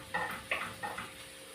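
Pork sautéing in a little oil in a pan: three or four quick stirring scrapes of a utensil against the pan over a soft sizzle, fairly close and fading out after about a second.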